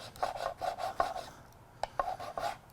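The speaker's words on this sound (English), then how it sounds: "The leveling tool we use, and this one's been used quite a bit, is a nylon grater" A well-used nylon grater rubbed lightly back and forth over a hard fil repair, giving rhythmic rasping strokes close by in two short bursts, with no voices.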